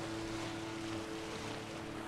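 In Witcher 3: Wild Hunt, a boat moves across water with a steady, faint hiss of waves and wind and a low, constant drone running underneath, with no breaks and no voices.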